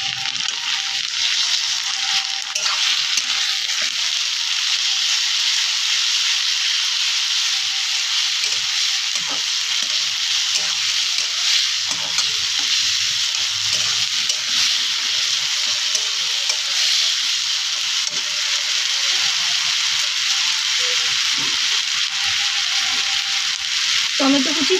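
Ginger, garlic and chili paste sizzles with browned fried onions in a pan, a loud, steady, close frying hiss that runs unbroken, with faint stirring scrapes beneath.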